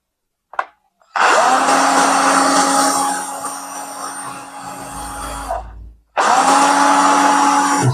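A JLD 12-volt brushed cordless power tool runs alone with a steady, loud motor whine, spinning up sharply after a brief click, humming for about five seconds, cutting off, then starting again.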